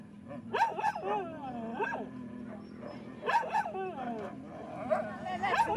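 Several hunting dogs bark, yip and whimper in repeated bursts during a boar hunt in the mountains, fairly close and loud, with a low background rumble between the outbursts.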